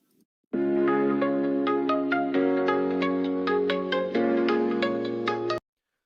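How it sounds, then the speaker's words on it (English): An old rotary dial telephone rings in a steady run of bright, bell-like pulses, loud and close with no voices, stopping abruptly after several seconds. "someone is calling you on a rotary dial phone by the sounds of it"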